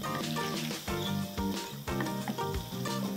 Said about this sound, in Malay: Setiap batch gorengan ni, kita goreng dalam 3 ke 4 minit.